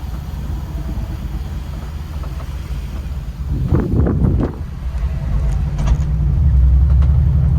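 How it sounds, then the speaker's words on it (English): A Mercedes-Benz G-Class AMG engine hums steadily and swells louder as the vehicle labors uphill, with wind buffeting the microphone throughout. "Can you hear the engine roar?"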